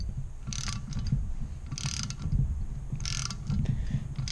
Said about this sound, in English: the valve guide's getting sucked up into the bore.